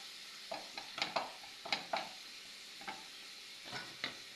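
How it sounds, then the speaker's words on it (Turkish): Pepper and tomato paste gently sautéing in a pan, heard as a quiet low sizzle broken by a series of sharp scraping stirs roughly every half second, close and alone without talk. "Benim salçam biber ve domates karışık. Hafifçe bunu da kavuruyorum şöyle."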